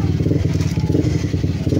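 An old motorcycle engine with a worn connecting rod pin and worn bearings runs at a steady idle, loud and close, with a rapid rhythmic knocking clatter throughout.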